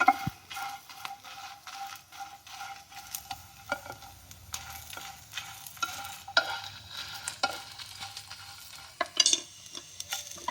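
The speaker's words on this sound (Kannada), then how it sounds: "ಬೆಳ್ಳುಳ್ಳಿ ಸ್ವಲ್ಪ ಹುಣಸೆಹಣ್ಣು ಹಾಕ್ಕೊತಾ ಇದ್ದೀನಿ" Garlic and tamarind roasting dry in a pan for curry leaf chutney powder, with a steady close sizzle and frequent scraping, clacking stirs of a spatula against the metal, no voices.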